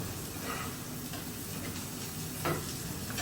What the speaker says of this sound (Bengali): তার যে এইভাবে ভাজা পেঁয়াজ বানাইতে ওই জন্য ভাজতে বেশি করে পেঁয়াজ দিয়া